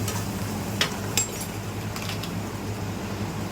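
Cumin powder stirred into a vegetable and mushroom curry sizzling in a pan: a continuous frying hiss with a couple of sharp spoon-on-metal clicks.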